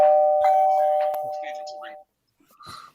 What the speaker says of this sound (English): Just need them to ring the bell, really.